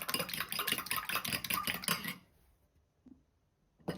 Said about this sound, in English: you have to just mix it, because it's going to be scrambled eggs